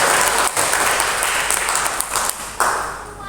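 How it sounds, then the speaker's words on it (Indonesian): Applause for the Ustadz and Ustadzah teachers at a school foundation's competition ceremony; loud, dense clapping from a large crowd that holds for over three seconds, briefly dipping twice before tapering off. "Beri tepuk tangan untuk Ustadz dan Ustadzah"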